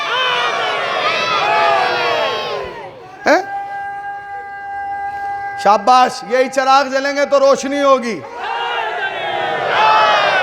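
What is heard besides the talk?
children in the audience chanting religious slogans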